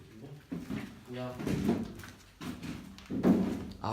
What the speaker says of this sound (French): Tiroir de morgue.